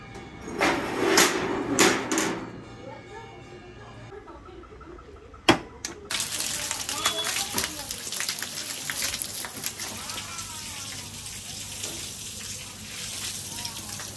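Water poured and splashed against the walls of a newly built house, a steady broadband wash with a few sharp knocks early on, running continuously at moderate level with faint voices around.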